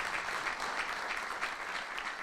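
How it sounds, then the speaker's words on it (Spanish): An audience applauding an artist at a painting presentation, a steady, dense patter of clapping from many hands, moderately distant and continuous throughout. "yo quiero pedir un fuerte aplauso al artista, al autor de ese cuadro, que es Marcos Pérez"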